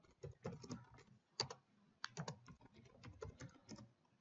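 Typing on a computer keyboard, quick uneven bursts of close key clicks with brief pauses, fairly quiet and with no voices.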